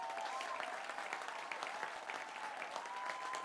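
A canned applause sound effect played during a wrestling-themed livestream, a steady wash of crowd clapping at moderate-low level, without any talk over it.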